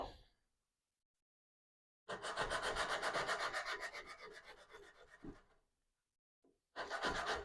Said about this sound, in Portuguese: Aí você vem na lixa